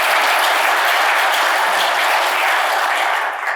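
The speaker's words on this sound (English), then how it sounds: "I think a big round of applause for the 2 ladies" Conference audience applause at a protection review session fills the room, a dense, steady wash of many hands clapping at close range, holding loud throughout before easing slightly at the end.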